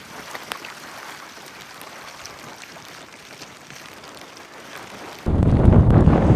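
Wind gusts across the floor of an Alaskan valley, a faint rushing hiss that suddenly bursts into loud, roaring buffeting against the microphone near the end.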